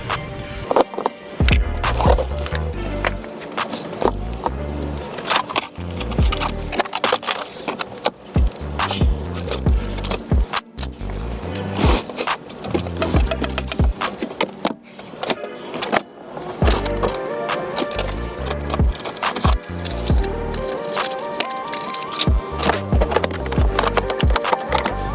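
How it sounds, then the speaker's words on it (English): Dremel rotary tool cutting out a hole, a loud, continuous, rough buzzing grind that wavers in pitch with a few brief cutouts throughout. "So I think I'm gonna Dremel out the hole."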